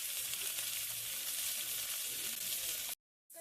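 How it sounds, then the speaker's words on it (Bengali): Drumstick flowers fry in a pan with potato and nigella seeds, a dense continuous sizzle that stops abruptly near the end, then briefly resumes. "এই সজনে ফুলগুলো ভালো করে বেছে ধুয়ে নিয়েছি, এগুলো ভাজা হবে।"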